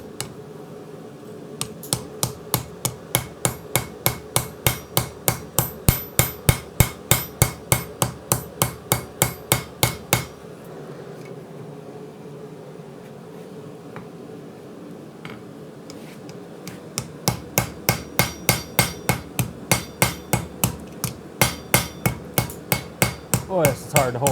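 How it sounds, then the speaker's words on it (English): A cross peen hammer strikes hot steel during integral knife forging, landing sharp, evenly spaced blows in two long rhythmic runs separated by a quiet pause. "So, got my cross peen"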